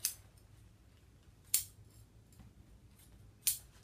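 Scissors snip through bonded polyester padding on a Parsons chair, three short crisp cuts spaced about two seconds apart, close and fairly faint in a quiet room.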